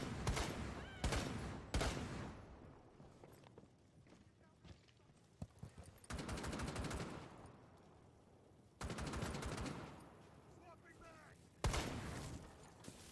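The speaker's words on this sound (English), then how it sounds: "I need you to shoot out the bandits." Gunfire bursts in a Dreamcast shooting game as bandits are targeted: repeated rapid volleys of shots come in several loud stretches mixed with hoofbeat-like clatter, while people talk over the action.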